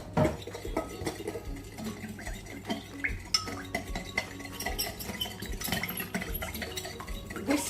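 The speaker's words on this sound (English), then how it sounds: "Now give it a little whisk" An egg is whisked into milk in a mixing bowl while making cheese scones. A whisk clinks and scrapes against the bowl in quick, irregular strokes, steady and fairly close, with no talking.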